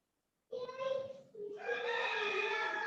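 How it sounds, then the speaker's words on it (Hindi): Roosters crow: one in a long drawn-out call, fairly close, followed by a second overlapping crow with a steady strained tone. "जिनके पीछे मुर्गे बोल रहे हैं"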